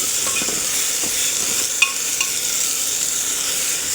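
Jackfruit mixture with turmeric sizzles steadily in a hot pan while a spoon stirs it, with a few soft scrapes and clinks over the constant frying hiss.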